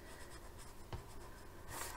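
Pen doodling small layered patterns on paper, a soft continuous scratching and rubbing close by, with a brief tap partway through and a slightly brighter stroke near the end; no talking.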